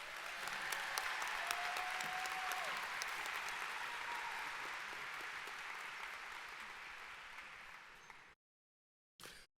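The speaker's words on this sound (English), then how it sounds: "let's give all of our valedictorians another round of applause" Sustained applause from a university graduation audience fills the hall with dense clapping and a few cheers, fading gradually before cutting to silence, then a brief burst returns.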